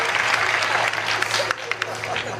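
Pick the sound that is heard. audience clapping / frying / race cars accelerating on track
audience clapping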